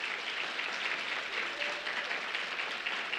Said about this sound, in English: can we give this awesome crew a nice round of applause for the